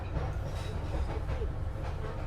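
A Madiun Jaya passenger train runs on rails after leaving Tugu station, giving a steady low rumble of wheels and carriage noise that continues without a break.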